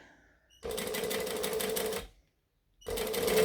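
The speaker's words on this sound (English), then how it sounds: "I'm top stitching. So I'm doing it 1/8 of an inch from that fold" Sewing machine running two bursts of top stitching through folded fabric one-eighth inch from the fold, a steady close mechanical whir of about a second and a half, a pause, then a second burst.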